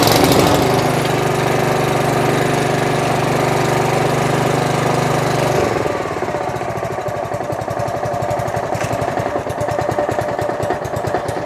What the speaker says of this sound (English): I'm gonna give it a quick start, see if it's working